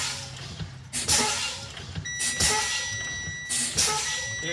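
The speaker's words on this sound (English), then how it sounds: "There's my alarm." A truck's low air pressure warning alarm goes off during an in-cab air brake check, sounding as steady high-pitched tones with a few sharp, louder bursts recurring over several seconds.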